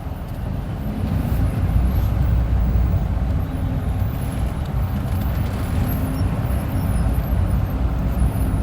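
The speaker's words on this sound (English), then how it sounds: "The traffic is crazy." Steady, dense road traffic rumbles around a manual car crawling in low gear through heavy congestion, with trucks and buses close by and a brief air-brake hiss, the low broadband roar continuous and fairly loud throughout.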